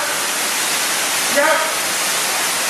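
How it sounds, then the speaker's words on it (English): A stream cascades down a 6 metre underground waterfall in a Yorkshire Dales cave, a loud, steady hiss of falling water that fills the space, with a brief voice heard over it midway. "the stream cascades down a 6 metre waterfall"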